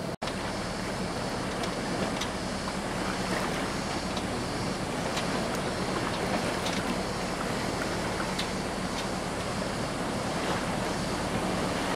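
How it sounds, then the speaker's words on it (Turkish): Waves wash and slap against a sailboat at sea, a continuous broadband rushing surf with wind noise buffeting the microphone, steady throughout. "Birazcık dalgalar var."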